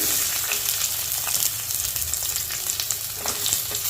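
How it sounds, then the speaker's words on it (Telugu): Chopped onion with green chillies frying in hot oil, giving a steady, dense sizzle with faint crackles throughout, close and fairly loud, with no voices. "తర్వాత ఒనియాన్ వేస్తున్నానండి"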